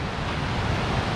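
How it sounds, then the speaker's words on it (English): River rapids at Hermit Rapids rush in a loud, continuous broadband roar of churning water, steady throughout with no voices. "let's see if we can get some more of the rapids for you all."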